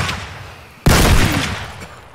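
Sudden loud gunfire bursts out in Escape From Tarkov, a dense, close volley of shots that rings on and slowly fades, with no talk over it.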